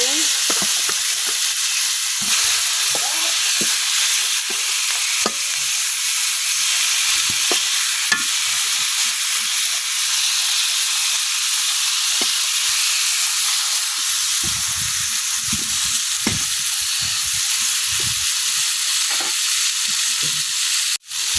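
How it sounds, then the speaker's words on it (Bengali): Eggplant pieces fry in a wok with a steady, dense sizzle and hiss that holds close and loud throughout, broken by scattered scraping and stirring knocks, with no talk over it. "কড়াইয়ে বেগুনগুলো ভাজবো"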